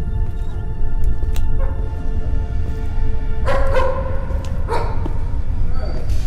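A dog barks in a video game set deep beneath Antarctica, with several sharp yips and whimpering barks bursting out near the middle, close and loud over a steady low hum.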